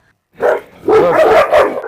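Large Kangal dogs bark in quick, loud, close bursts, a short volley of harsh barks and yelps after a brief silence.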